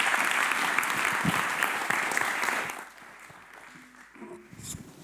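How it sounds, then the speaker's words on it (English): A room full of people applauds a speaker at a graphic design talk on data visualization, a dense burst of clapping for about three seconds that then thins out to scattered claps and quiet room noise. "give a warm applause for Dennis Elbers"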